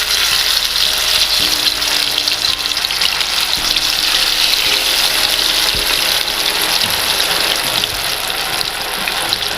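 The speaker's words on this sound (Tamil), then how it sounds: "இப்போ நம்ம மீனை ஒவ்வொரு பீஸாக போட்டுக்கலாம்." Pieces of sea bass (koduva fish) sizzling in hot oil in a kadai, a steady loud hiss and crackle of frying that holds throughout without talk.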